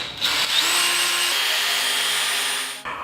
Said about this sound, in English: I just put a drill to some Valenti taillights.